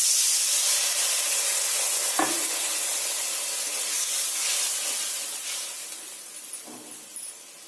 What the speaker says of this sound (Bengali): এতে দিয়ে দেবো জল, অল্প করেই জল দেব।